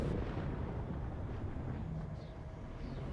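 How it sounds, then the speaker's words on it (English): A ship exploding in the video game Elite Dangerous, a loud, dense, rumbling blast that stays heavy and fades only slightly across a few seconds, with no talk over it. "I'm gonna explode!"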